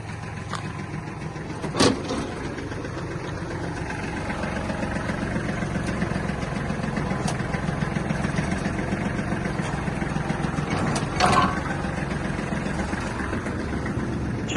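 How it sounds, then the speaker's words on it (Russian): A Kubota L1-215 mini tractor runs steadily with its rotary tiller engaged, a close, even engine drone with a couple of sharp clunks as the hydraulics raise and lower it. "Включим работу фрезы, покажем подъем опускания"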